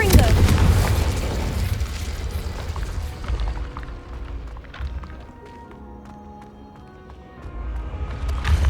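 Explosive spell blasts in a Harry Potter video game, a heavy boom opening loud and close, then a quieter stretch of rumbling debris before another burst rises at the end, with game voices underneath.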